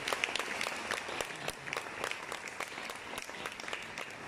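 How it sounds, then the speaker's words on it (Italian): Steady applause from a concert audience in Acireale, Italy, dense clapping sustained throughout at a moderate level with no voices standing out. "Un grande applauso per lui"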